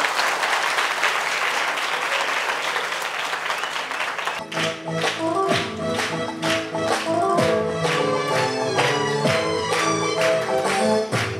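An audience claps loudly for a singer at a Malabar charity event, a dense burst of applause that gives way to a band striking up with rhythmic music.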